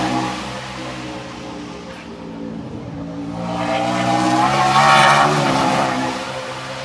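A Jeep's engine revs hard and loud near a racetrack at Watkins Glen, its harmonic roar building and peaking before easing off, with traffic and crowd ambience around it.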